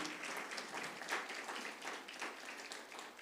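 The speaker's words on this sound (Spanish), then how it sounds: "denle un aplauso" Faint, steady applause from a church gathering of leaders and pastors, a soft continuous patter of many hands clapping at a distance, with no speech.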